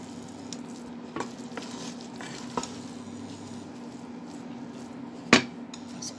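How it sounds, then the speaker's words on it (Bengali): Noodle and vegetable filling with sauce and black pepper is stirred in a pan, a soft low sizzle with a few scattered scrapes and one sharp metallic knock of the utensil against the pan. "একটু নেড়ে নিব।"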